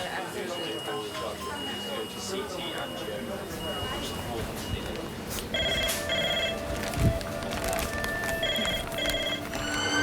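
A red emergency phone rings in a busy hospital A&E department, its repeated electronic rings sounding over steady ward bustle and background voices.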